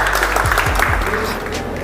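Clapping at a live quiz show in Baramati, a short loud burst of dense audience applause held evenly across the whole moment, close and full, with a few low tones beneath.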